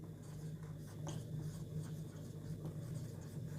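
Chalk or a marker writes on a board during a maths lesson on triangles, giving soft, faint scratching strokes over a low steady hum.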